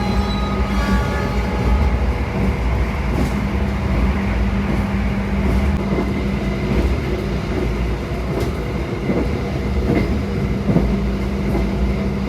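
An Indonesian Taksaka luxury sleeper train running on rails after leaving a station, a steady loud rumble of wheels and carriage noise heard from aboard, continuous throughout with faint rhythmic clicks.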